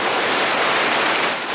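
Water rushing through a canal that supplies Phoenix, Arizona, a loud, steady broadband roar of flowing water heard close and continuous throughout.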